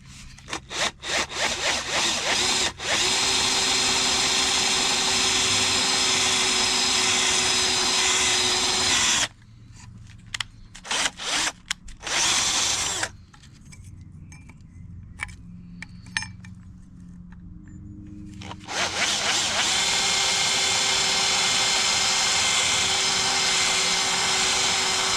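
Power drill with a cheap drill bit, working on Nissan 300ZX brake parts: loud, sustained whirring drill runs broken by a few short bursts and quieter gaps, then resumes steadily.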